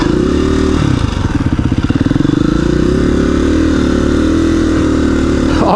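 KTM 690 Rally Raid single-cylinder motorcycle ridden on an adventure trail, a loud close engine drone with a throttle blip and rhythmic pulsing as revs dip and recover.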